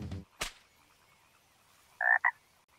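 A frog croaks near and clear in a quiet setting, a short doubled call after a couple of brief knocks, with silence between.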